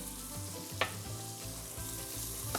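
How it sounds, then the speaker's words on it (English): Fennel, garlic, leek and chili flakes fry in a hot pan for a seafood stew, giving a steady close sizzle with a couple of sharp crackles and soft stirring scrapes. "That's sizzling beautifully now."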